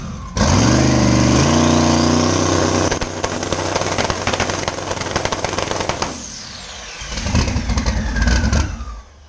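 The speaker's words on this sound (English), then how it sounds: "now that y'all seen what the truck looks like on the two-step" A twin-turbo LS-powered truck holding revs on a two-step launch limiter, loud and close, its engine roaring in sustained bursts with popping crackles, then dropping off briefly before surging again near the end.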